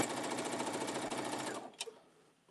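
A sewing machine stitches in a fast, steady whir close by for about a second and a half. It then stops, followed by a couple of faint clicks.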